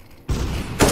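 A grenade detonates in the CS:GO shooter game with a sudden, loud, broad burst that cuts in after a quiet moment and rolls on briefly before a second sharp hit.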